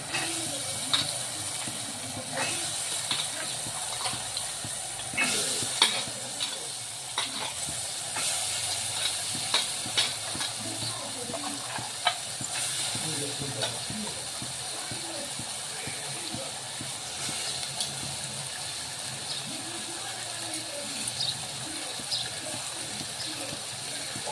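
Soaked chana dal hits a hot pan for Nagpur-style dal kanda and sizzles in a steady, close hiss with small crackles, and a voice speaks faintly at times.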